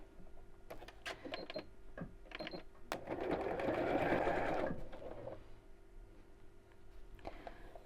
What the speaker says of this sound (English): you could just pop it straight under the machine and fold and sew as you go